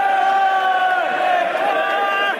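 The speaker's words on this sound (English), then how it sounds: "So he's getting a good cheer." A football crowd in the stands roars and cheers in a sustained swell, loud and close, with mixed voices rising and falling.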